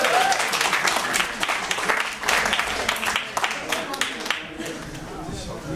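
A crowd at a school presentation gives a dense, steady round of applause that runs through the whole stretch without stopping, with a few voices audible underneath the clapping.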